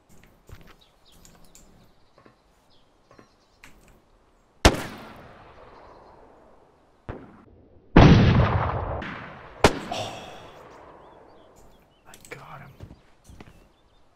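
Gunfire in the survival shooter DayZ: a handful of sharp, loud gunshots scattered across the scene, the biggest around the middle, each followed by a decaying tail, with quieter footsteps and faint ambient noise between them.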